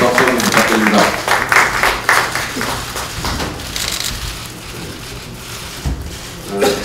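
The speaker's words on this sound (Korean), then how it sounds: "1차 박수 부탁드립니다." Applause fills a room at a Korean political party's supreme council meeting as a crowd claps in a dense, rain-like patter. It swells in waves, then settles into a softer, thinner clatter.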